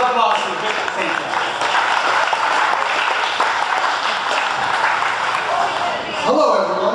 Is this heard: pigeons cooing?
no